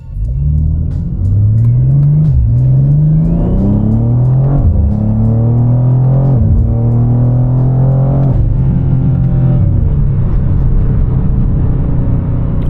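A BMW G87 M2 drives along, its engine note climbing through repeated upshifts with rising and falling revs, a loud, close rumble inside the cabin with no talk.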